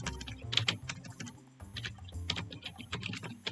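Quick, light clicks of typing on a computer keyboard, close and quiet, coming in short irregular bursts with brief pauses between them.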